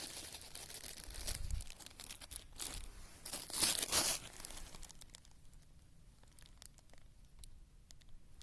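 Quiet plastic bag crinkling and rustling, with bursts of material pattering and spilling out, then scattered soft ticks.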